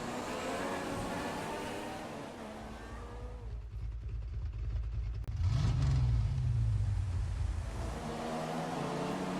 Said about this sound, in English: Modern Formula 1 turbo engines might be smaller than before, but they're still very powerful.